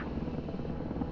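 A CH-53 helicopter flies in the war video game Broken Arrow, a steady low rotor-and-engine drone with no break.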